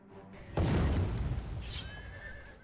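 In the video game Oblivion, the horse Shadowmere lets out a loud, close neigh that starts with a sudden burst and trails off over about two seconds.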